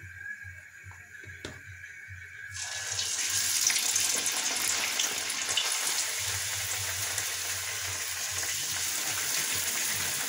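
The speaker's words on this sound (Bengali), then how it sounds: "তেল গরম হয়ে গেছে, এখন আমি একটা একটা করে ছেড়ে দেবো।" Dalpuri slipped into hot oil burst into loud, bubbling frying after a quiet start with a faint hum; the close sizzle then holds steady and continuous.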